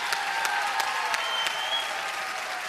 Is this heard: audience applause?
yes